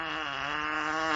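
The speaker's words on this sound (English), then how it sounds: "Here comes an angry fart." A smart speaker plays an angry fart sound effect: one continuous buzzing, raspy tone that holds steady and slightly swells over about a second, close and alone.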